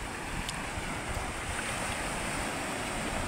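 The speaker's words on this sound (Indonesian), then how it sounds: "Ombaknya tenang." Calm sea waves wash steadily at Pangi beach, a soft, continuous broadband surge with wind noise on the microphone and no voices, fairly faint and unbroken.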